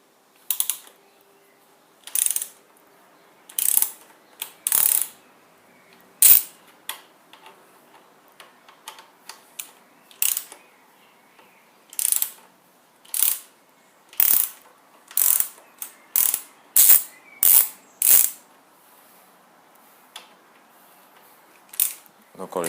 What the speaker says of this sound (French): vous dévissez les petites vis qui sont sous l'axe